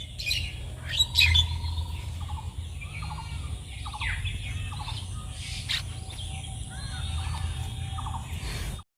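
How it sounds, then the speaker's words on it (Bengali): Small birds chirp and twitter around a rural village, with several short repeated calls scattered across a steady low outdoor rumble and no voices. "আমাদের গ্রামে সকালবেলা থেকে সারাটা দিন পাখির ডাক গরু ছাগলের আওয়াজ এইসবই বেশি শোনা যায়"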